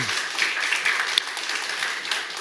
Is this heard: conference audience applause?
yes